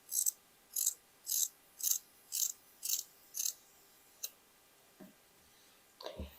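Scissors snip through a denim jacket cuff in seven regular, crisp chomping cuts about half a second apart, close and clear, followed by a few scattered handling clicks and rustles.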